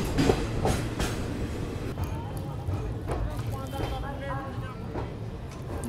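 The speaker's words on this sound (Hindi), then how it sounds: "अपनी युवा जो है वो 125 की रफ्तार में चली" Yuva Express passenger train travelling at 125 km/h between Mumbai and Delhi, a continuous rumbling roar with repeated rhythmic wheel clatter and thumps, heard from inside the carriage with voices talking over it.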